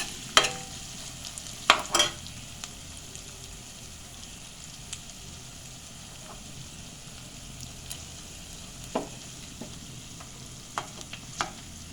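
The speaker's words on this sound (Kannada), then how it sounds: "ಅವರೆಕಾಯಿ ಒಂಚೂರು ಒಗ್ಗರಣೆ ಫ್ರೈ ಆಗಲಿ" Field beans (avarekai) fry in an oil tempering in a pan, a quiet, steady sizzle broken by a few sharp clinks and scrapes of a spoon stirring at irregular intervals.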